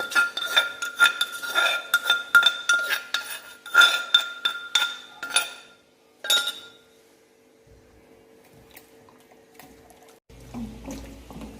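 Clinking and scraping of utensils as chicken is mixed with sauce in a large pot, several quick clatters in a row, then a stretch of quiet with faint sloshing.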